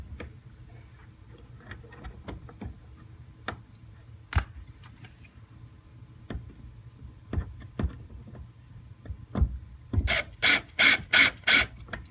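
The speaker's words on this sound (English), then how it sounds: "basically you can just grab it and it'll click up, and then it'll raise up to that next position" A Lowrance transducer mount on a Hobie Pro Angler 14 kayak ratchets up to its next position, with scattered faint clicks and then a quick run of about six sharp, loud clicks near the end.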